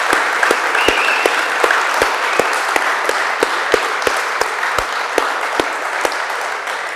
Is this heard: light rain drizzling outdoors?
no